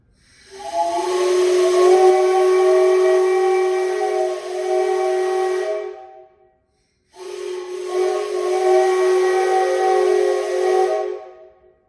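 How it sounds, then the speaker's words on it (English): A 3D-printed three-inch, six-chime train whistle blows two long, loud, steady chords, the first about five seconds and the second slightly shorter after a brief silence, with a breathy hiss of air under the tone. "Here's what those sound like."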